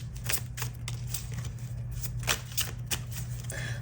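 Tarot cards being shuffled by hand, a steady run of crisp riffling flicks and sharper snaps close up, with no voices.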